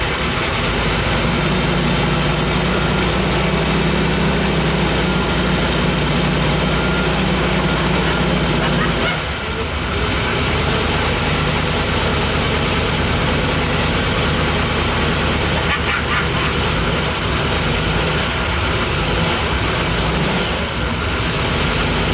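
A 1970 Corvette LT-1 V8 runs loudly and steadily at its first start in over 20 years, a dense rumble with a brief dip partway through and voices talking over it.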